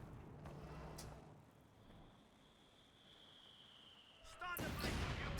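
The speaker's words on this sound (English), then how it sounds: "It's the 6-pounder." A 6-pounder anti-tank gun fires in a wartime strategy game, its booming report arriving near the end after faint ambient battlefield noise and a low voice.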